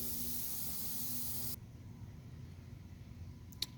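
Garden hose spraying water to rinse car wheels, a loud steady hiss that cuts off abruptly after about a second and a half, leaving faint background noise and one brief click near the end.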